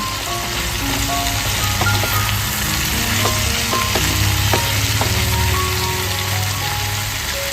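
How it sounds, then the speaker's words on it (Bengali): Ground chilli, cumin and coriander spices fry in a pan for a winter beet and carrot vegetable curry, with a steady, close sizzle and spatter and soft stirring scrapes running throughout. "এবার সবকটা মশলা আমি ভালো করে মিক্স করে নেব"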